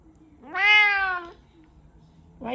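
A pet cat gives a single clear, drawn-out meow close by, with a quiet pause afterward and the start of another meow at the very end.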